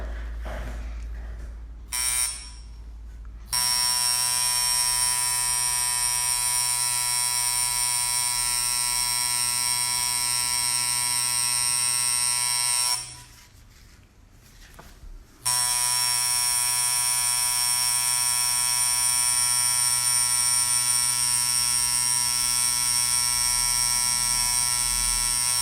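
A coil tattoo machine buzzes loudly and steadily while lining, running in long continuous stretches broken by two brief pauses, close up and without talk.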